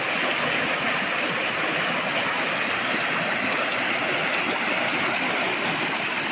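Clear water flows steadily in a rural creek used for washing and bathing, a constant close rushing wash with no voices.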